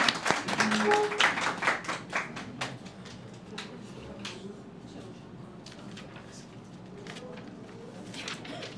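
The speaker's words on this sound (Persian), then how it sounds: "آقای امین رو تشویق کنین از بازی میرن." Players of a Zodiac party game tournament clap for a departing player, a short burst of applause that fades within a few seconds into quiet room murmur.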